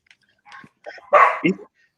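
A dog gives a couple of short barks up close, a quick yappy burst with brief gaps.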